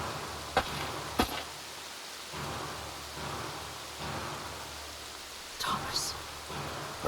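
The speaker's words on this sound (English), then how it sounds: "Nothing left but the rain." Steady rain pours over a swamp in a dark storm scene, with sharp thunder cracks near the start and again toward the end against the constant wash of rainfall.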